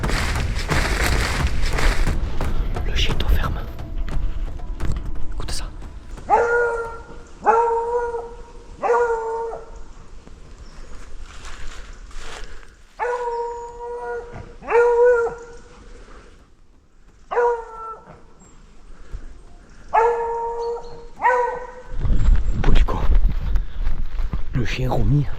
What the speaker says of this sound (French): écoutez le chien au ferme